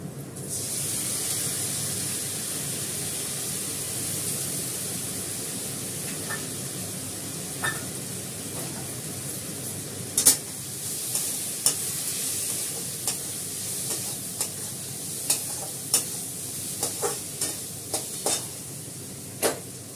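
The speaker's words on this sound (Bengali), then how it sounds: "দেখো সুন্দর করে কষানো হচ্ছে" Heads being fried and stir-cooked with rice in a small amount of oil in a pan. A steady, close sizzle and hiss runs throughout, with sharp spatula scrapes and clinks growing more frequent toward the end.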